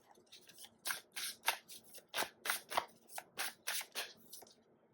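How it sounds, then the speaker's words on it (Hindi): Tarot cards are shuffled and drawn in a run of crisp, papery flicks and slaps, about a dozen quick bursts in an uneven rhythm, close and fairly quiet with no talking. "एक और कार्ड निकालते हैं।"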